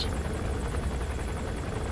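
Continuous rotor chop and engine drone from a hovering helicopter in Metal Gear Solid 5, steady and even throughout, moderately loud with no voices.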